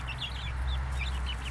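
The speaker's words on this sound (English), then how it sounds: "Happy chickens." Chickens in their run give short, repeated clucks, soft and fairly close over a low steady background, with no talking.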